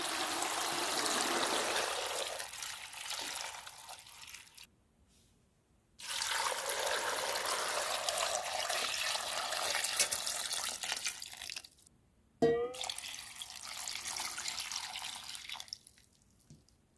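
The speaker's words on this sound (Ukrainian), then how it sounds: "Заливаю їх водою." Water pouring into a pot of whole green beans (flat runner beans) on a Transcarpathian home stove, a steady loud splashing rush in long bursts with brief pauses, no talking.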